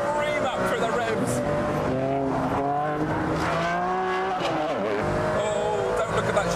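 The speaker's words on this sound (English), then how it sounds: "Now the Ferrari's alive. The lights on the wheels scream up through the revs." A Ferrari Enzo on a race track, its engine revving loudly and rising through the revs in clear climbing sweeps, with a brief dip and recovery near the end. The engine noise is continuous and up close.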